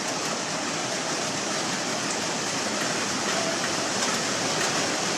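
Heavy rain pours down in Thrissur as a dense, even roar that stays steady throughout, with no voices.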